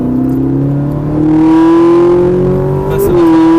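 Ferrari 458 Italia accelerating hard on a race circuit, a loud close engine note rising steadily in pitch, dipping briefly for a quick gear change near the end, then pulling on.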